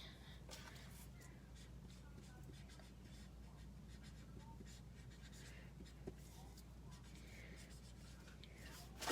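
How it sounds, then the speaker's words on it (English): A Sharpie marker writes on a paper-like backing, making faint, soft scratchy strokes in a quiet room with a low steady hum, the strokes coming in short bursts. "So I am going to pull out my Sharpie, and I'm going to write"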